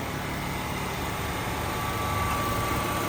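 Steady idle of a car's 1.4 litre gasoline engine, a continuous even rumble with a faint whine on top, close by and unchanging throughout.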